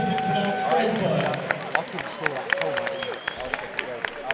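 A crowd at a boxing match applauds both fighters after the bout, clapping and cheering in a noisy hall while voices carry over the top.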